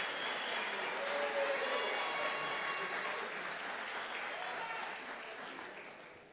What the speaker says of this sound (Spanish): Muy bien, don Huber, un aplauso.